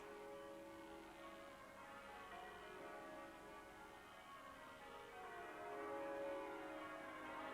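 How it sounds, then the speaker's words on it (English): Church bells of St Andrew's in Sydney peal faintly and at a distance in a continuous, layered ring, with no voices. "And the bells of St Andrews."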